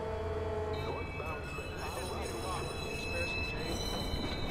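A train in Watch Dogs rumbles steadily along the tracks with a constant roar and a faint metallic squeal, while someone speaks over the noise.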